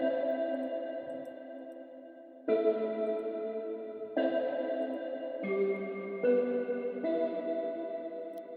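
A sampled synth stroke from Cradle the Prince used in Afrobeat production: sustained chorused, slightly distorted chords in a repeating pattern of about six held hits, soft and alone with no talk.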